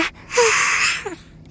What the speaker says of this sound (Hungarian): És nagyot ásítottál.